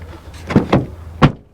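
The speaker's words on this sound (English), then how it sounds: "go open and shut the door again" A Toyota Tacoma truck door is opened and shut, giving three distinct thumps and clunks about a third of a second apart, the last the loudest, over a low steady hum with no talking.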